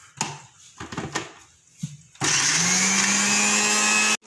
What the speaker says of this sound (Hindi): अब हम इसको ब्लेंड करेंगे।